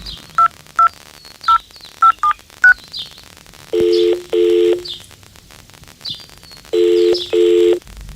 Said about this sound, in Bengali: অনুপম ফোন করলো রাকার শ্বশুর বাড়িতে।